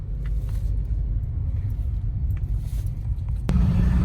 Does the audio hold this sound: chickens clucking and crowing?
no